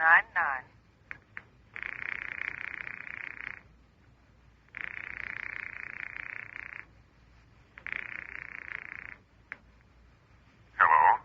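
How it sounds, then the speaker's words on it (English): A telephone on the line in a radio drama, giving repeated long ringing tones separated by pauses, fairly clear and close, with brief bits of other sound between the rings. "I am ringing Murray Hill 40599."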